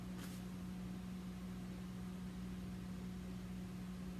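A microwave oven hums steadily while cooking food, a constant low drone with a faint fan-like hiss, running alone and unbroken throughout.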